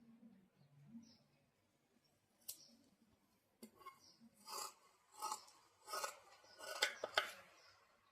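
Scissors snip through blouse fabric, quiet at first, then a run of close, crisp cuts coming in a steady rhythm over soft background sounds.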